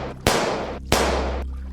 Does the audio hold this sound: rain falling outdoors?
no